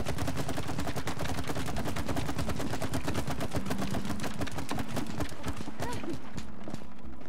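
Rapid bursts of gunfire ring out in the co-op video game It Takes Two, dense crackling shots firing in quick succession throughout, loud and close, with a faint voice underneath.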